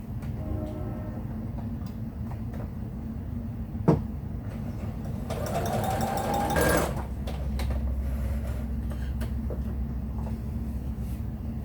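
A sewing machine stitches pieced quilt present blocks with a steady low mechanical hum, rising briefly to a brighter, busier run near the middle before settling back into a continuous drone.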